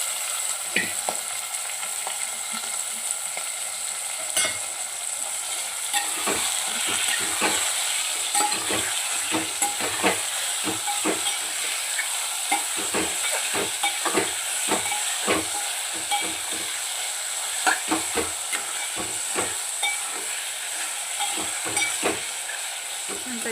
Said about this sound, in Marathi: छानपैकी मटण मिक्स करून आपल्याला परतून घेऊया